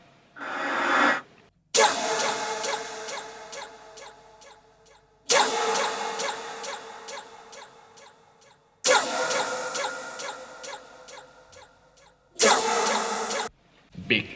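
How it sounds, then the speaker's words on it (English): Four chanted takes of a voice saying "go" for the track, each a sharp vocal hit drenched in big reverb, the tails washing out and decaying before the next shout cuts in. "It's like a big reverb hit."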